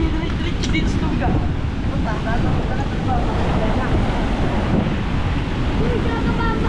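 Storm-surge water and waves pour onto the shore, producing a constant rough, churning rush that is mixed with wind buffeting the microphone.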